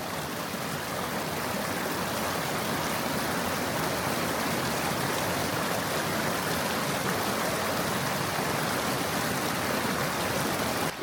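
A forest stream near Akmeņupīte waterfall flows in a loud, constant rushing babble, close and steady without a break, with no voices over it.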